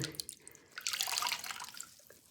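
Water splashing and running as a dyed silk scarf is rinsed in clean water, a short close burst of sloshing and trickling that swells in the middle and then settles, with no voices.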